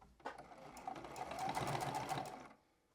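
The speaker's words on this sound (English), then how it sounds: "I'm going to go all the way around with a 1/4-inch seam allowance." A sewing machine runs steadily for about two seconds while stitching a 1/4-inch seam around a fabric bookmark, a close, continuous mechanical whir that begins after a few short starting clicks and stops abruptly.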